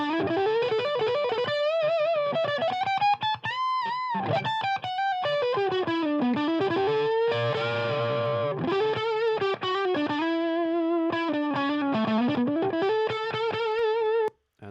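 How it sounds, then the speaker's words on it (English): Electric guitar through a light distortion pedal, a lead line with sustained bending notes and vibrato, loud and close, played alone for the whole stretch. "And that is the light distortion."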